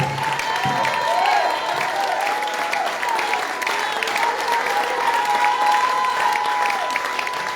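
A congregation applauds during a Sunday sermon in church, sustained moderate clapping with crowd murmur, and a voice or music tone running underneath.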